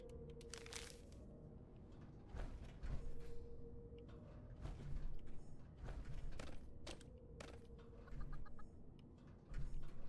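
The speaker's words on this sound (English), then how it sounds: "Sounds like a chicken." Chickens in the video game Fallout 76 clucking in bursts, with sharp, irregular clucks and squawks mixed with clanking, creaky mechanical noises, near and moderately loud.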